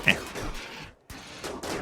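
Gunfire from colonist pawns shooting in Rimworld, a short rattle of distant shots under a talking voice, with a brief gap before the firing resumes.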